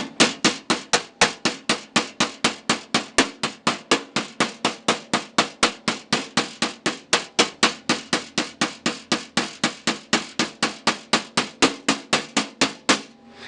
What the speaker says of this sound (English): this round body hammer is pretty much used up